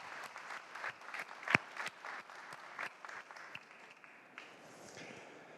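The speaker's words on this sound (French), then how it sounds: "Je vous demande de l'applaudir, s'il vous plaît." An audience at a live business keynote claps for the incoming CEO of PrestaShop. The applause is moderately loud with crisp individual claps, peaks early, then thins and fades over about five seconds.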